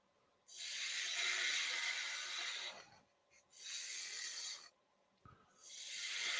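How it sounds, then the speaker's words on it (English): A skew chisel shaves a wooden spinning top turning on a lathe, giving three long, steady hissing cuts separated by brief pauses, close and fairly quiet. "I'm going to take the skew and attack this other side a little bit."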